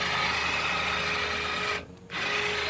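Power wrench driving a hitch-mounted deer swivel hoist, a steady mechanical whirring that briefly pauses near the end before running on.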